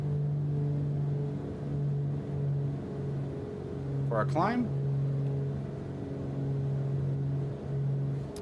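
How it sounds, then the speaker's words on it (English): The twin piston engines of a Beechcraft Piston Duke in Microsoft Flight Simulator drone steadily at continuous climb power, a constant humming tone under a voice. "we're going to take our engines down to continuous at 2750"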